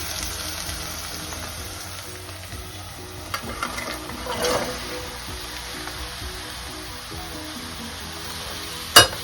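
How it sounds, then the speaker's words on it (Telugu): Chopped ridge gourd and onions fry in a hot pan, a steady close sizzle with occasional scraping stirs and a sharp clink near the end, no voices. "ఉల్లిపాయలు వేగిపోయి ఉంటాయి వేగిపోయినాయి ఇప్పుడు ఇందులో బీరకాయలు వేసేసుకుందామండి"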